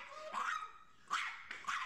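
An agitated dog barks several times in a home setting, with sharp, strained barks and short gaps between them, heard at moderate distance with no speech.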